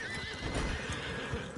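A horse in the Red Dead Redemption video game whinnies while its hooves clip-clop nearby in a short, clear burst, the neigh rising over a quick run of hoofbeats.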